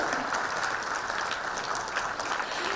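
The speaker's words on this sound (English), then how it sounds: "clap it if you want to." Audience applause at a product presentation for toothbrush, toothpaste and detergent, a steady, fairly distant patter of many hands clapping without a break and no voices over it.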